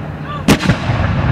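Revolutionary War cannon fired at a reenactment on a historic farm: a single loud, sharp boom with a brief rumbling tail over steady outdoor background noise.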